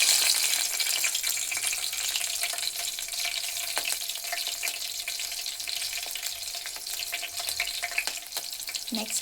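Green chillies frying in hot oil in a pan for onion pulusu, a steady close sizzle and crackle throughout with a few brief utensil clinks, no talking.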